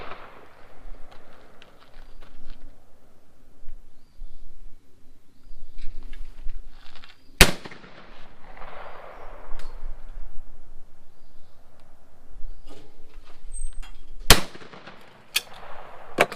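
A Caesar Guerini 20 gauge shotgun fires at a sporting clays course, producing a few sharp, loud, well-spaced reports over quiet outdoor ambience.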